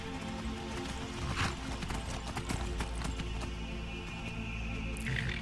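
Horse hooves clip-clop in Skyrim, the steady gallop running throughout over a continuous game ambience, with no talk.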